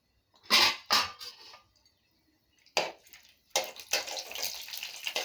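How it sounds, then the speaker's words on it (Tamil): Mustard seeds, white urad dal and chana dal hit hot oil for a lady finger fry, bursting into sharp sizzling and crackling spurts, close and intermittent, then a sustained spluttering hiss. "போட்டதும் பாருங்க பொரியுது"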